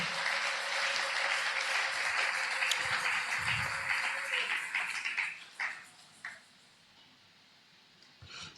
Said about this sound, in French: Betela Yesu maboko Acclame le makasi